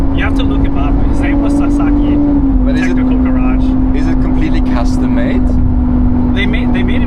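Lamborghini SVJ with a custom straight-pipe exhaust droning loudly and steadily nearby in Bangkok, a sustained engine tone under continuous conversation.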